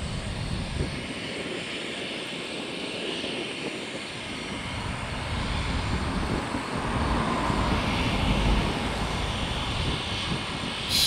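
A JetBlue Airbus A320 in special vacation livery at Tampa International Airport, heard as a steady, broad jet engine roar that swells gradually louder toward the end, with no talk.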